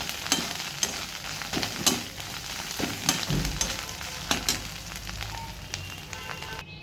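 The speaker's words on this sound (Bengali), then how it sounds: "এবার সমস্ত কিছু দিয়ে আমি আবার খুব ভালো করে নাড়াচাড়া করব।" Cauliflower leaf paste is stirred in a hot pan, giving a steady low sizzle with repeated soft scraping strokes of a spoon at a loose, uneven rhythm, close up and alone.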